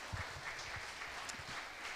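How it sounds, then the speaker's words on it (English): Applause from an audience at a startup pitch event held in a co-working space, a steady dense wash of clapping lasting throughout, moderately distant, with no talk. "So big applause for them, our hosts."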